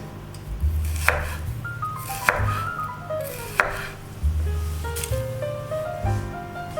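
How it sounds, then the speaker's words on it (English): Knife slicing mushrooms thinly on a chopping board, with a few distinct close cuts spaced about a second apart over a steady background hum, with a faint melodic tone drifting underneath. "just try to slice them as thinly. They will break down quicker"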